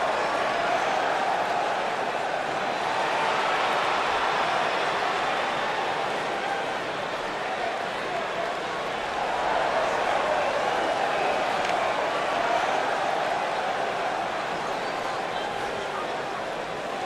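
A sold-out crowd at a women's wrestling event, a steady, distant roar of murmuring and cheering that holds throughout with slight swells.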